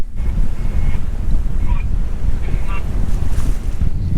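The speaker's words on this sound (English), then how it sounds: "Just like that, we are sailing again." Sailboat cruising through Caribbean waves at around five knots, with constant loud wash of water and wind buffeting the microphone, faint tonal traces over the rushing hull noise.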